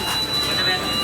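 Inside a moving Shanghai Metro train, a steady, even rumble carries a thin high whine, a brief continuous wash of carriage noise.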